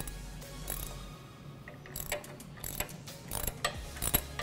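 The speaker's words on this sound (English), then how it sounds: "And then on the back side, you're going to use a 3/4 inch socket." A ratchet with a 3/4 inch socket works on a pin nut, giving irregular clicking bursts and short metallic ratcheting runs, close and fairly quiet.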